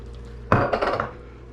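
Chunky peanut butter dropped into a pot and stirred, a sudden clunk of utensil on metal followed by a few short scraping, clattering strokes that fade after about a second.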